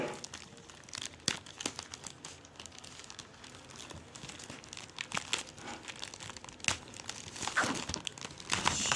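Cardboard and plastic wrapping on a cargo package holding a magazine crinkle and crackle under the hands as it is torn open, with a steady run of soft rustles and sharper snaps close by.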